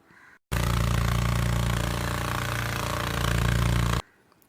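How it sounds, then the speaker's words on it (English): Beetle droning, a loud steady buzzing hum that starts abruptly, holds for about three and a half seconds, then cuts off. "Beetles drone."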